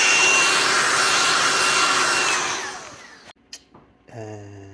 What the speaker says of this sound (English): I highly recommend a cordless vacuum. It helps clean up stuff like this real